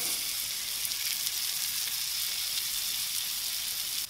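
A ribeye steak sizzles on a hot Himalayan salt plate, with a loud, steady, close frying hiss that holds unbroken for the whole stretch and no talking.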